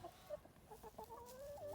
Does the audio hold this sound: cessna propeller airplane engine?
no